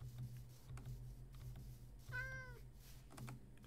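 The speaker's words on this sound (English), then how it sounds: "There's a cat." A cat in Minecraft gives a single short meow, quiet amid faint keyboard typing and low background hum, with no talk.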